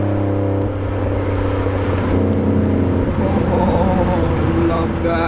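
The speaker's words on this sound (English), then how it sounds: "there's nothing like a nice sounding car" A BMW E92 325i M Sport with a new Fastlane exhaust, heard as a steady, fairly loud engine and exhaust drone with rising revs, while someone talks over it.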